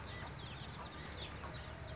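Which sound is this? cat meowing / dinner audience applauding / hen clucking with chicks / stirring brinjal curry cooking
hen clucking with chicks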